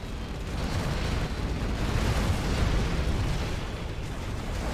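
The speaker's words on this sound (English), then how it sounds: "artillery coming across from yellow" In a Command & Conquer Generals Zero Hour match on the Green Pastures map, artillery fire lands as a dense, continuous roar of rumbling blasts with no clear gaps, loud and steady throughout.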